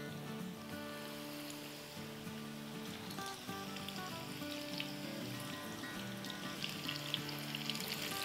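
Chicken malai pakoras fry in hot oil, a soft steady crackling hiss heard faintly beneath sustained background music.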